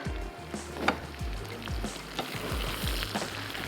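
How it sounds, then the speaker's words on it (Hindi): Whole round red chillies and white cumin seeds sizzle in hot oil as a tempering for Hyderabadi chawal ki kadhi, a steady loud frying hiss with occasional stirring clatter and spoon taps. "ये चली गई गोल लाल मिर्चें, थोड़ा सा ऐड कर देंगे साबित सफ़ेद ज़ीरा। तो ये अब हमारा तैयार हो रहा है भगार।"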